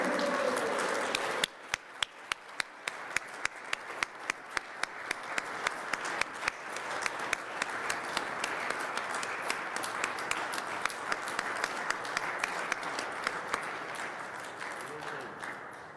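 Audience round of applause at a Nellis Air Force Base plaque ceremony honoring 1949 Aerial Gunnery Competition winners, starting after a moment of talk and building into sustained clapping with distinct sharp claps over about fourteen seconds.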